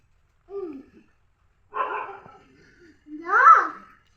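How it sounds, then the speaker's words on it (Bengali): A dog barks close by, three separate short barks spaced about a second apart, loud against an otherwise quiet background. "ডগ ডাকছে"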